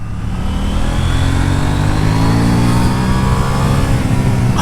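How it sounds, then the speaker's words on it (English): A 2019 KTM Duke 790 parallel-twin motorcycle engine drones loud and close under engine braking, its pitch gliding smoothly downward as the bike slows, with wind noise and no talking. "The engine braking is really smooth."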